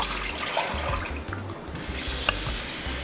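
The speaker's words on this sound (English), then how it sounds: "I'll just keep adding little dashes of water to it" Small splashes of water being added to a mixture while cooking, a steady watery running texture with a few brief clinks, fairly close and continuous with no talk.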